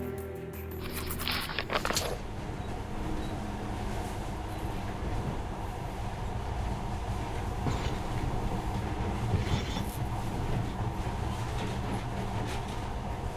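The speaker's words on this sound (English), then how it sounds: "this monorail seems magic, doesn't it?" A monorail train from the video game Metro Last Light Redux runs steadily, a continuous rumbling roll with metallic rattle and occasional clicks, with a brief burst of higher clatter at the start.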